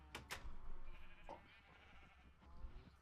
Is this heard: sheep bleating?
yes